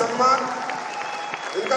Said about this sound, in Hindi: इनके लिए जोरदार तालियां दोस्तों।